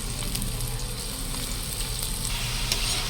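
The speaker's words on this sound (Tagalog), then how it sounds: "Then saka ko siya ginusa sa sibuyas, bawang tsaka luya." Boiled jackfruit sautéed with onion, garlic and ginger for a coconut-milk stew gives a loud, steady, unbroken sizzle and crackle of frying throughout, with no voices.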